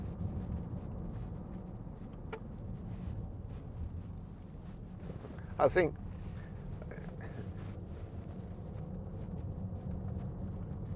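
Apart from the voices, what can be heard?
3 litre diesel engine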